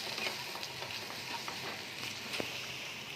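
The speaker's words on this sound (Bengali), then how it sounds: "আমি ভালো করে আলুর সাথে মশলাটাকে ভালো করে কষিয়ে নেব" Potatoes being stirred and sautéed with spices in a pan for ghugni give a soft, steady sizzle with occasional scraping clicks, fairly quiet and without talk.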